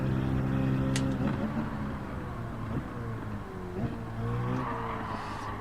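Car in Gran Turismo 7 sliding around on a time trial, engine droning steadily while the revs dip and swell through the slide, with faint tire noise underneath and no talk.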